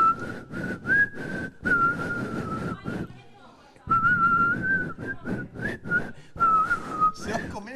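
A person on a TV game show whistles a steady, shrill tone in repeated bursts over a noisy studio background, with short breaks and a brief quiet gap midway.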